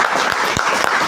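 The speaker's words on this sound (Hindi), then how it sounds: "एक बार एमडी सर के लिए जोरदार ताली बजाइए।" A hall audience at an Asclepius Wellness business meeting bursts into loud, dense applause for the company's managing director, a steady wash of many hands clapping that fills the whole short moment with no voices on top.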